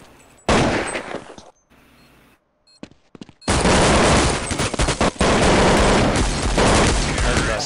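Counter-Strike 1.6 on the Cache map: a loud burst of game gunfire, a quieter gap with scattered shots, then sustained rapid automatic fire close up.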